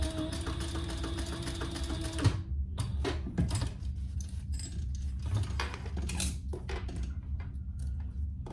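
Sewing machine stitching rows on a bag, a fast steady mechanical whir for a couple of seconds, then stopping, followed by scattered clicks, taps and handling noises of the fabric and machine.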